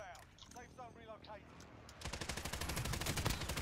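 Rapid gunfire in the video game Warzone breaks out halfway through as a loud burst of rhythmic shots, coming after quiet speech from a player.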